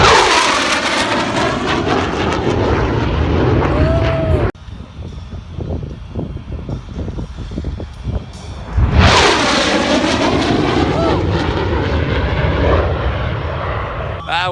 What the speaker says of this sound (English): It was such a versatile aircraft.